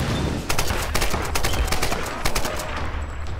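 Rapid bursts of video game gunfire in Tomb Raider, a dense run of sharp shots crackling steadily over a constant low rumble of game ambience, loud and close with no talking.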